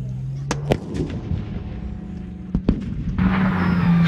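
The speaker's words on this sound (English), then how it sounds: "Shot fired and he's taken out vehicle number 7." A tank gun fires at a target vehicle during a live-fire military vehicle display, with sharp, distant booms and cracks over a low rumbling engine drone, while someone talks.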